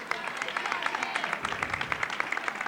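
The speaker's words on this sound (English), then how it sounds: "Jennifer Guarneri gets a hand from the Piscataway crowd" The Piscataway crowd at a 1999 girls' high school basketball game claps for a player fouling out, a steady patter of applause from a gym full of people, with no talk.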